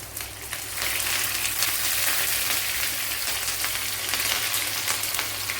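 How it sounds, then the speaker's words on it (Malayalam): Pieces of vala (ribbonfish) shallow-fry in hot oil for a curry, giving a loud, continuous close sizzle with steady crackling and no talk. "ഡീപ്പ് ഫ്രൈ ആക്കി എടുക്കണ്ട ചെറിയ രീതിയിലൊന്ന് വറുത്തെടുത്താൽ മതി"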